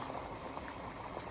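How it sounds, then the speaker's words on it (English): Water boils steadily in a pot, giving a quiet, continuous bubbling and fizzing hiss with no voices. "So our water has just started boiling"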